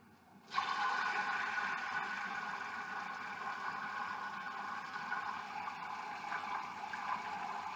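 Water runs steadily from a tap into a bowl of ice water set out for chilling boiled peaches, starting abruptly and continuing as an even, moderately loud rush with no talk.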